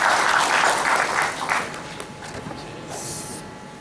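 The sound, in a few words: audience applause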